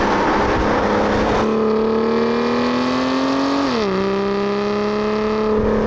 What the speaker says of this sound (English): I'm now driving back to Mark to return the car